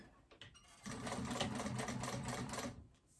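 A sewing machine runs in one steady burst, whirring close with a rapid needle rhythm while box-stitching a fabric phone pouch, preceded by a few faint handling clicks.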